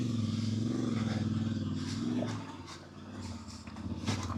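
Voge DS800X Rally adventure motorcycle ridden off-road, its engine a steady close droning rumble that dips as the throttle eases off and then rises again near the end.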